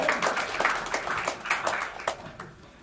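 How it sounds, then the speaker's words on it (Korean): Scattered hand claps from an audience at a Christian prayer meeting as people greet one another, uneven and moderately close, fading out toward the end. "서로에게 박수로서 인사 나눠주시기 바랍니다."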